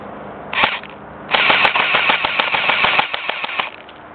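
An airsoft gun fires outdoors, first a brief burst and then a longer, fast string of sharp, snappy shots, loud and close, with no voices during the firing.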